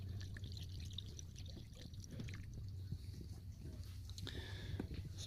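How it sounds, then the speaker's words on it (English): Prestone 50/50 coolant poured into the radiator of a 2003 Honda Civic during a thermostat and radiator job, a steady liquid trickle running beneath a low hum throughout, fairly faint and close. "So we'll fill the radiator back up and the overfill."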